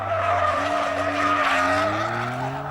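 Twin-turbo Noble sports car with no limited-slip differential spinning its inside rear tyre, engine note climbing steadily as it revs, with a screeching skid close and loud throughout, no voices.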